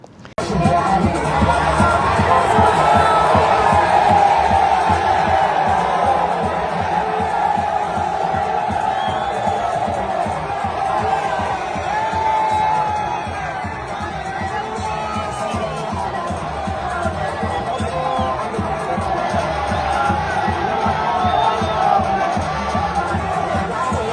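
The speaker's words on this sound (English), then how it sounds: "shows supporters lining the streets, chanting slogans, singing songs, and expressing excitement as Kwankwaso appeared before the crowd" Large crowd of Kano supporters in the streets cheering, shouting and chanting slogans for Kwankwaso, a dense roar of many voices that stays loud and continuous throughout.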